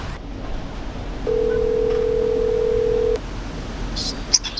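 A phone line sounds one steady electronic tone for about two seconds during an outgoing call to a tow company, set against a low background hiss.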